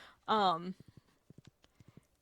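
Horse hooves clip-clopping in Stardew Valley: after a brief burst of voice, a run of light, evenly spaced hoof taps trots along steadily, close and clear, a dozen or so beats in quick succession.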